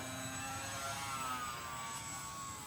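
A steady, loud engine drone with a high whine holds throughout as an E-flite J-3 Cub UMX model airplane flies close by, with no talking.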